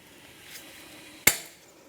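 A single sharp metallic hammer tap on a cotter pin rings out once, close and bright, over a faint steady background hum, during front CV axle replacement on a Nissan Rogue.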